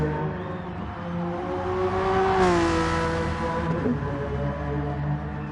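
Group 3 race cars roar through a Gran Turismo race, one engine rising and shifting through gears as cars sweep past, loud and continuous with a brief tire squeal near the end.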